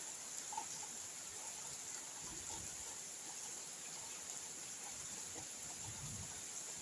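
Steady evening rain falls in a rural setting as a faint, even hiss with light patter and occasional soft drips, with no voices.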